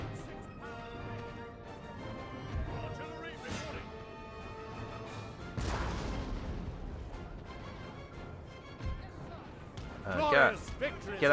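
Cannon artillery fire in Napoleon Total War: dull distant booms and crashes scattered through a busy battlefield mix with music-like tones, including a stronger blast midway and a cluster of impacts near the end.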